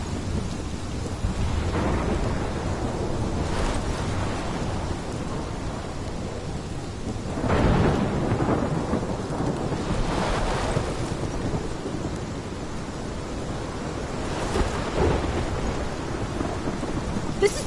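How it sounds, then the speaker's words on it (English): A thunderstorm in the video game Life is Strange, with steady heavy rain pouring throughout and several rolling thunder rumbles and cracks spaced a few seconds apart, full and enveloping. "This is my storm."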